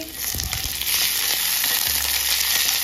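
Red and yellow bell peppers being stir-fried in a hot pan for chilli chicken give a loud, constant sizzle, with a few stirring scrapes near the start and no speech.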